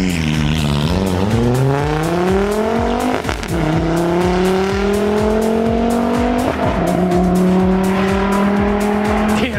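A Volvo with a Haldex all-wheel-drive system, freshly serviced with new fluid and filter, accelerates hard with its engine revving up through the gears, the pitch climbing and dropping at each shift, loud and sustained.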